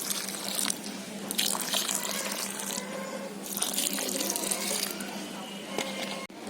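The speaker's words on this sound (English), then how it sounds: "immediately after sowing, water the seedling" Water trickles and splashes steadily onto a newly transplanted tomato seedling outdoors, a continuous close pouring with faint dripping and bright splashy texture throughout.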